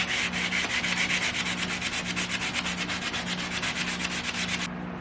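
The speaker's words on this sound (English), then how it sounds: "Let's switch over to 180. I'm going to keep this same sanding block" A guitar body, a Les Paul Custom, is sanded by hand with 180 grit sandpaper wrapped on a block, giving steady rhythmic rasping strokes that run back and forth close up for several seconds before stopping abruptly near the end.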